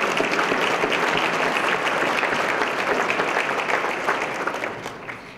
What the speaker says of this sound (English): Let's thank Copper Point with a round of applause.